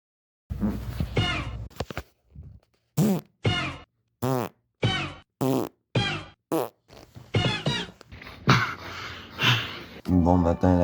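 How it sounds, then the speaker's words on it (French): A string of loud, close farts comes in separate bursts of varying length, some drawn out, mixed with a person talking between them. "C'est genre mon 10e pet de la matinée."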